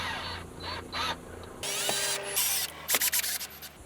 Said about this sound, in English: screw that down to make sure everything's nice and secure